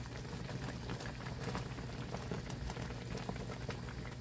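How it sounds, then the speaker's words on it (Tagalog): A pot of Korean gamjatang pork bone stew bubbles and simmers steadily, a soft continuous churning and popping with no voices. "Since kumukulo naman siya, mag-mix naman siya mag-isa."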